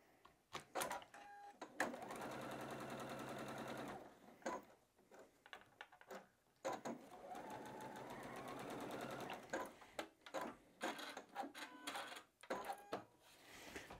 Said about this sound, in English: We're going to sew through the drawn line.